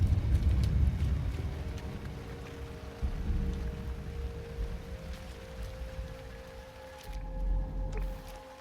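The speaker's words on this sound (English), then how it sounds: "Pretty much constant sort of rain is what it seems like here." Constant rain on an alien planet in the video game No Man's Sky, a steady hiss of falling drops with low rumbling underneath that swells briefly near the start and again toward the end.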